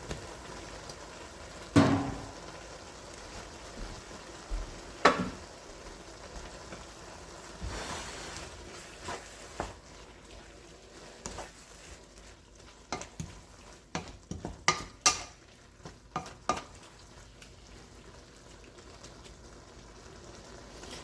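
Kimchi fried rice stirred and frying in a pan, soft steady sizzle with intermittent scraping and clanking strokes of the utensil, sparse at first and then quicker clusters near the end, fairly quiet and close.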